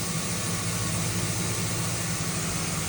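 A Mazak VCN 510C-HS high-speed vertical CNC machining center has its spindle running at 1,000 RPM, giving a steady, even mechanical hum and whir that holds at a constant level with no voices.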